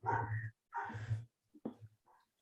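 Dogs bark excitedly indoors in a few short bursts, with a gap and then a sharp yap and softer whimpering sounds trailing off.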